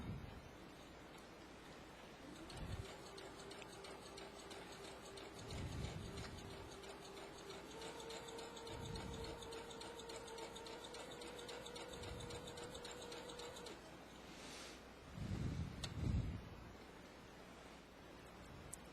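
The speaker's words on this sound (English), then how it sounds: "Let's go ahead and sew the hem." A home sewing machine sews a twin needle hem with a faint, steady motor whine and soft mechanical ticking, alone and fairly quiet throughout.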